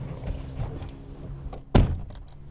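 A door thuds shut once with a sharp, solid knock after a stretch of low indoor rustling, fairly close and standing alone without talk.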